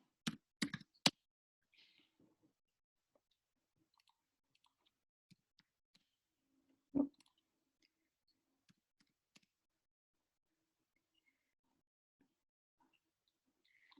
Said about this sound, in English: So let me go ahead and just type those values in.